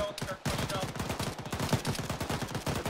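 Rapid automatic gunfire rattles continuously in a military shooter video game, bursts overlapping in a dense, loud stream with brief pauses near the start.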